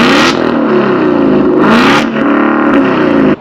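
Car fitted with Corsa Extreme exhaust and a non-active exhaust setup revving loudly and close, with a sustained aggressive engine roar that surges in two sharp bursts of throttle.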